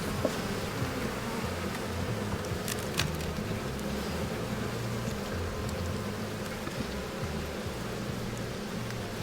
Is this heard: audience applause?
no